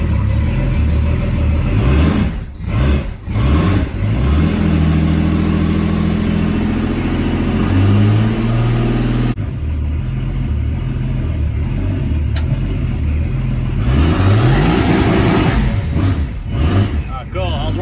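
A Datsun 280ZX engine idles and revs in a garage, a steady mid-pitched drone with rising and falling throttle swells and a few sharp pauses, loud and close throughout.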